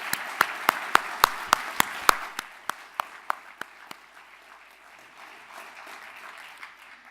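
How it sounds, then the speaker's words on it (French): Audience at a French-language awards ceremony clapping in slow, loud, unison beats that fade into softer scattered applause. "je voudrais commencer par faire une salve d'applaudissements pour Guy"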